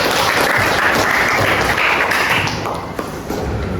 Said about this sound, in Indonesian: Tepuk tangan untuk Hafiz.